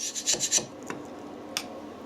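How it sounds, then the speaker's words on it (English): A wood chisel scrapes good-quality silicone off a surface in a few quick rasping strokes, loudest in the first half-second, followed by two isolated scrapes, with no talking. "I fully realise I shouldn't be using this chisel for scraping this off."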